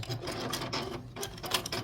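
A sewing machine back stitches at the end of a pieced quilt row, giving a steady close mechanical whir with quick rhythmic needle pulses and a brief dip partway through.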